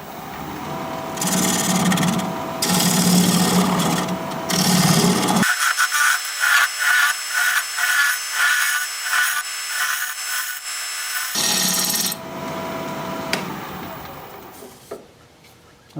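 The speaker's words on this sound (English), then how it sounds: "We're going to be turning at 1100 RPM with a freshly sharpened 5/8 inch bowl gouge" A wood lathe spins at 1100 RPM while a freshly sharpened 5/8 inch bowl gouge cuts a live edge bowl from a log, a loud rough shearing hiss that gives way midway to a pulsing, rhythmic scraping whir, then returns.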